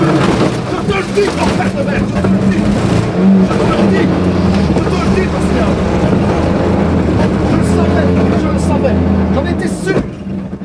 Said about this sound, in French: Et à Marchand, justement, nous y voici. Pascal attaque.